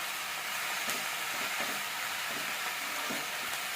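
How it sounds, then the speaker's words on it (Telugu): Amaranth greens fry on low heat in a covered pan, giving a steady, soft, close sizzle with faint occasional ticks and no talk. "మరొకసారి బాగా కలుపుకొని మూత పెట్టుకొని సిమ్లో ఒక ఐదు నిమిషాలు ఫ్రై చేసుకోవాలి"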